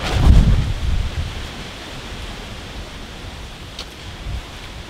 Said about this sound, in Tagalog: narinig nila yung lakas ng hangin, no? Naka-capture din po yan sa microphone po namin